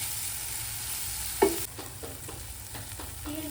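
Lentil tempering of tomato and spices being stirred in a pan, giving soft continuous sizzling with a sharp scrape of the spoon and a few light clinks, fairly quiet and without voices.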